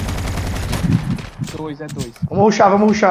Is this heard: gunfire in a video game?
yes